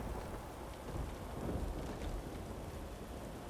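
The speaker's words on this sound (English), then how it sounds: "Oh, raining." Rain falling with a low rumble of thunder in Divinity Original Sin 2, a faint, steady hiss with a soft swell of rumbling partway through.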